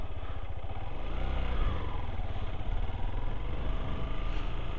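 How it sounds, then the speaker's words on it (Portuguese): A motorcycle ridden during a practical motorcycle driving test gives a close, steady engine drone throughout, with slight swells in throttle and no voices. "Para de acelerar, deixa a moto ir."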